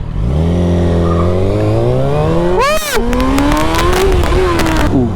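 A loud 2004 Yamaha YZF 600 R6 motorcycle engine climbs in pitch, cuts off abruptly, then drops back into engine braking and keeps droning with shifting revs and a few sharp pops.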